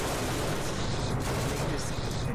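Ship turrets in the space game Genesis Alpha One fire in rapid, dense, continuous bursts, a loud unbroken barrage of gunfire with no pauses.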